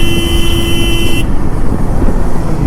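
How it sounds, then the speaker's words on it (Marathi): A car on the monsoon road up to Matheran, roaring past while overtaking, loud and close, with a sustained horn blast that cuts off partway through, leaving rumbling traffic and engine noise. "बघा कारवाले कसे पण ओव्हरटेक मारतात."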